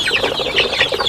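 Young chicks and chickens in a brooding pen cluck and peep continuously at close range, a busy overlapping chorus of short calls with no talking.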